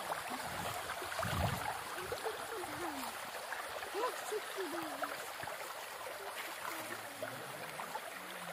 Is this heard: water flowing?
yes